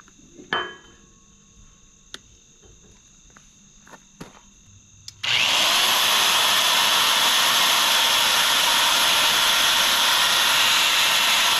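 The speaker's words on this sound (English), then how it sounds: "Those holes are 7/8 of an inch through 1/4 inch plate." A 1/2 inch drill boring 7/8 inch holes through 1/4 inch steel plate starts up after a few quiet seconds with scattered clicks, then runs as a loud, steady, hissing motor roar to the end.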